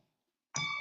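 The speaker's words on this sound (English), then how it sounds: "The bell" A bell rings once to close a meeting, a single bright, sustained ding that starts abruptly after silence and rings on clearly.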